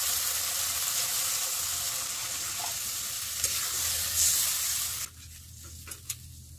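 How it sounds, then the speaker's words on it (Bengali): Prawn masala sizzles steadily in a pan, a loud continuous frying hiss that drops off sharply near the end, leaving a few faint clinks and splashes. "এবার আমি একটু জল দিয়ে দেব"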